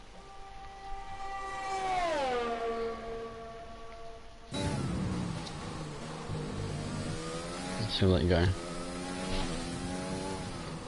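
A race car engine in a racing video game revs and shifts, its pitch sweeping up and down through gears, loud and close, with a sharp change partway through and a few spoken words under it.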